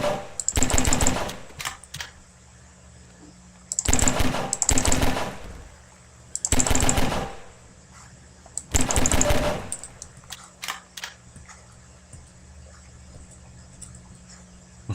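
Pistol fire in Half-Life 2: four clusters of rapid, sharp shots, each lasting about a second and spaced a few seconds apart, over a quiet electrical hum with faint clicks in between.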